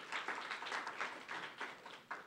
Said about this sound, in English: Warm round of applause,